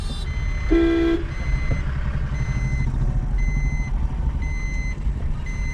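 A lorry stopped on a road near Salem gives steady repeating reversing beeps at an even rhythm, heard close over a constant engine rumble and traffic noise, with one louder horn-like tone early on.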